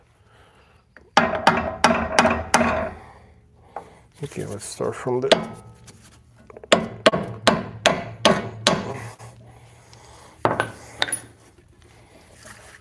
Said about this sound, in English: let's just get our hammer and just hammer it out.